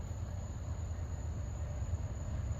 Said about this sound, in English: we're going to get a good shot of this Amtrak Auto Train